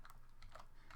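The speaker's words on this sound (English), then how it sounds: "I'm just going to type this out." Code being typed on a computer keyboard for a LibGDX game project: steady, quick clusters of close, quiet key clicks through the whole second, with no talking.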